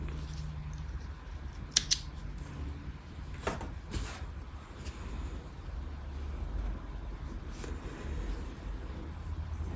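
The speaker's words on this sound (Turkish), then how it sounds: "Kalan ipimi artık kesiyorum." Scissors snip leftover yarn from a crochet vest worked from the corner, two sharp close cuts early, then quiet handling sounds over a low background hum.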